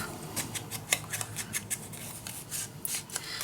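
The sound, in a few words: cutting paper with scissors for a mini album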